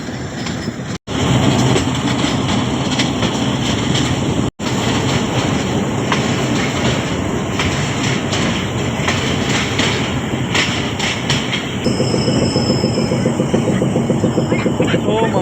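A passenger train running on the Taxila to Havelian line near Baldher railway station, with a loud, steady rumble and rhythmic clickety-clack of wheels on track throughout. Voices can be heard faintly beneath the noise.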